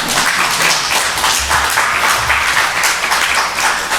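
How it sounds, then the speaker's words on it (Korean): An audience at a 2020 missionary conference applauds loudly and steadily, a dense wash of clapping that fills the hall for several seconds. "박수 한번 쳐주세요."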